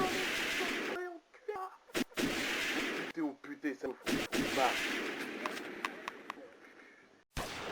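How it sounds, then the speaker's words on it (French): Sharp, loud gunshots crack in irregular bursts, some close and some echoing, with brief silences between volleys. "des échanges de coups de feu se font entendre"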